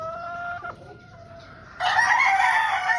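A straight-comb gamefowl rooster crows close and loud, its call breaking off and then returning in a strong, harsh final burst.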